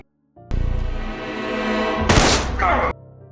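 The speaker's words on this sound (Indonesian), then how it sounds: "ternyata Knox datang dan langsung menembaknya" Gunfire in a revenge action film scene: a sudden loud burst of shots cuts through a sustained droning score, then the music carries on briefly before stopping.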